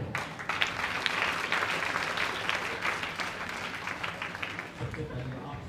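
Audience applause at a network marketing mega event, a dense steady wash of many hands clapping for several seconds with a voice talking over it.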